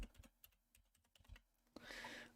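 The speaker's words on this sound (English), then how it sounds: "I might have to type it in." Several quick keystrokes on a computer keyboard come in an uneven burst of soft clicks, close by and quiet, and a brief louder rustle follows at the end. Nobody speaks.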